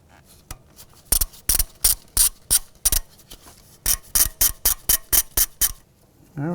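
A hand ratchet snugs the ABS wheel speed sensor bolt on an Acura MDX, giving two quick runs of sharp, evenly spaced clicks, close and distinct, with a short pause between the runs.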